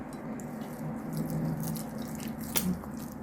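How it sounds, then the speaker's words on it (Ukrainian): Water poured from a small container onto potting soil for a Haworthia retusa succulent, a faint soft trickle and a few drips with steady outdoor street noise behind it. "трохи налью води, смочу ґрунт."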